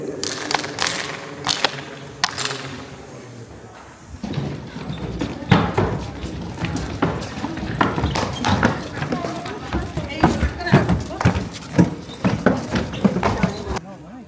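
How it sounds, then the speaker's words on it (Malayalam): Horse hooves clip-clopping in a steady run at the Golconda Fort in Hyderabad, fairly close and loud, with people talking over much of it. "ഹോഴ്സ് കുതിര."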